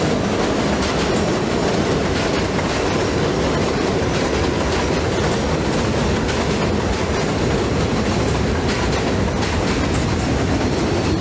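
A New York elevated subway train passes overhead, a loud, steady rumbling roar with rattling clatter from the wheels on the tracks, continuous from start to finish with no speech.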